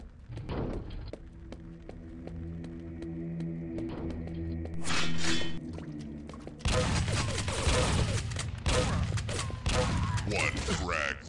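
Quake III Arena shotgun blasts land in slow, spaced booms amid in-game ambience, with heavier rapid firing and scattered impacts in the latter half.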